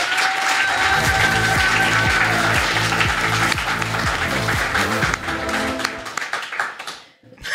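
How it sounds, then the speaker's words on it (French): Studio audience on a French political talk show applauding a guest's entrance, with loud, dense clapping under a rhythmic musical sting that fades out toward the end. "on applaudit l'entrée de l'invité"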